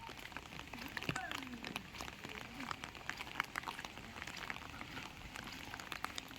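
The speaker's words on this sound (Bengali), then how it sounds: "চারিদিক ভেজা ভেজা এখনও বৃষ্টি পড়ছে" Rain patters steadily on surfaces during a flood in Ghatal, India, a soft, dense crackle of drops, with people talking quietly beneath it.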